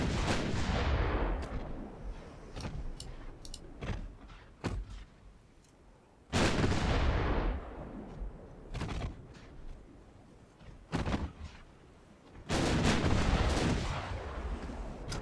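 Naval gunfire in the Ultimate Admiral Dreadnoughts battleship game: sharp booming cannon blasts with long rumbling decay, some single and some in quick clusters, loud and close, with quieter distant thuds between.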